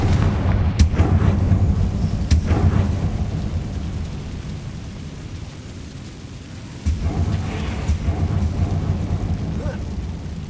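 Confringo fire-spell blasts in Hogwarts Legacy, deep rumbling booms with sharp cracking hits over a constant low roar of game ambience, loud and heavy, one blast kicking in again late.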